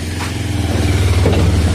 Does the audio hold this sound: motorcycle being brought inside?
yes